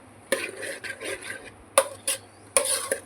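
A spoon stirs tomato rice in an open pot, giving a few close, distinct scrapes and clinks against the metal in short, irregular bursts over a low background hum.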